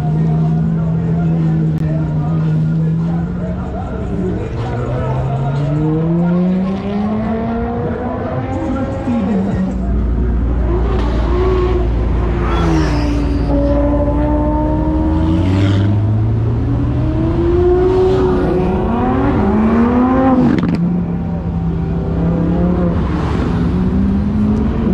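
Supercars, including Ferraris, a Porsche Carrera GT and a Bugatti Veyron, accelerate away on city streets, engines revving loudly and rising in pitch one after another, with a deep rumble and people talking nearby.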